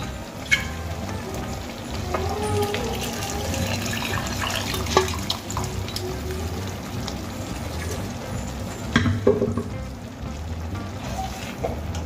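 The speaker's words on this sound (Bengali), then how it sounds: "এবার প্রেসার কুকার ধুয়ে জলটা দিয়ে দেব।" Water runs steadily into a pressure cooker as it is rinsed out in a kitchen while cooking biulir dal, splashing and trickling continuously throughout at moderate loudness.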